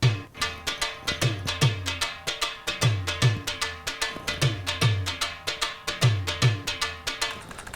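A dhol, a large tubular drum with skin heads, plays a repeating rhythm of deep booming strokes and sharp cracking slaps, loud and close with no talk.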